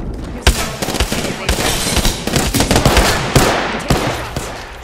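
Dense automatic gunfire from an Apex Legends match, with rapid bursts of loud close shots and sharp cracks overlapping throughout.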